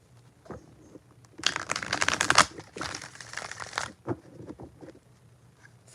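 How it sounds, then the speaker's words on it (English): Tarot cards are riffled and shuffled close by in a couple of quick bursts of crisp papery rattling, separated by short pauses and soft taps of the deck. "4 shuffles for KK and the Taurus."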